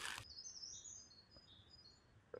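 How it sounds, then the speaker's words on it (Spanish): Birds sing in a quiet forest beside a castle, with high thin chirps and short warbling phrases at a distance against near silence. A brief louder sound sits at the start and the end. "Escucha los pájaros."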